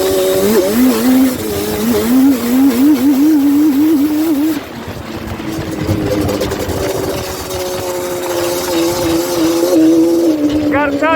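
A Banshee bike engine revs loudly and continuously while being ridden through snow, its pitch warbling and rising and falling with throttle changes, and a voice speaks over it at times.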